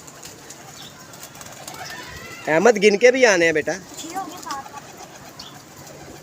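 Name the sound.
pigeon cooing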